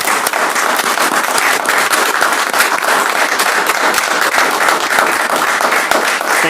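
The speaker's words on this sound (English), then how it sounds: "I hope you'll help me give our candidates a round of applause." Sustained, dense applause from an audience at a city commission candidate forum, an even and fairly loud wall of many hands clapping that holds steady from start to finish.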